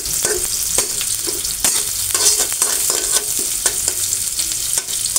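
Onions and garam masala frying in a pan, a steady loud sizzle with repeated scraping stir strokes throughout, no voices.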